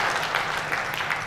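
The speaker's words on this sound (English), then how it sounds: "I would request all of you to please have a round of applause for him" An audience at a 64th Foundation Day celebration applauds the chief guest, a distinguished alumnus, in a brief, steady burst of dense clapping at moderate volume.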